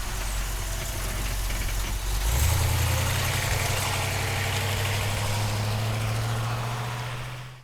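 A 1966 Ford Mustang Convertible engine idling, a steady low rumble with a firmer, deeper note settling in partway through and continuing evenly to the end.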